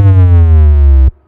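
A sub bass sine wave from the Serum 2 synthesizer, a loud, smooth, deep tone holding steady for about a second before cutting off abruptly, alone with no voice.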